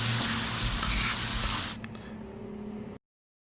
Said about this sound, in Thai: ผมทอดมาได้สักพักหนึ่งครับ หมูก็เริ่มได้แล้วนะครับ